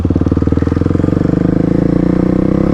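Souped-up Kawasaki KLX351 dirt bike engine revving hard on a rainy day, a loud, steady rapid-firing thump with harmonics climbing slightly as the throttle opens, close up and alone.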